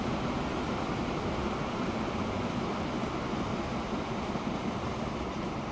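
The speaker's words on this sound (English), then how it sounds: "Oh wait, I can hear another train." A train rolling past in the Transport Fever game, a steady, dense rumbling roar that holds at an even level for several seconds with no voices.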